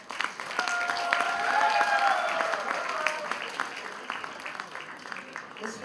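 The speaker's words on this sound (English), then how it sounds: "Round of applause." Audience applause at a University of Mumbai felicitation ceremony, moderate clapping from a hall crowd that swells then tapers, with a voice speaking over it.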